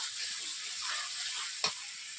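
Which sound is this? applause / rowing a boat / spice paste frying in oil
spice paste frying in oil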